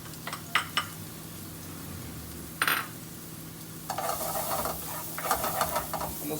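Onion hits a hot pan with olive oil and starts to sauté, giving a soft steady sizzle, brief clinks and scrapes of stirring, then a brighter crackling hiss as the frying picks up.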